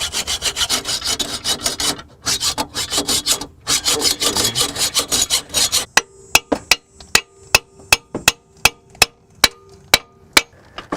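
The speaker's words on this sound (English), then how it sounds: "So I'm sawing away." Hand saw cutting through a seized spindle nut on a Ford Mustang during ball joint work, first as a fast run of rasping strokes, then slower, evenly spaced sharp strokes ringing on metal, close and loud with no talking.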